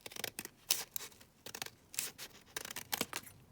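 Scissors trimming a paper policy envelope, a run of crisp close snips and cuts in irregular bursts, with short quiet gaps and no talking.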